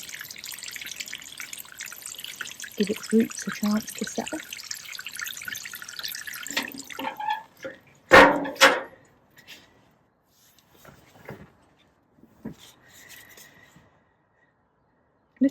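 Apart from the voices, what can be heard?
water poured into planting hole for fig tree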